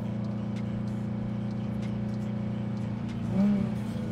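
A car engine in Cyberpunk 2077 drones steadily with a low constant hum and a brief swell in revs near the end, heard on its own without talk.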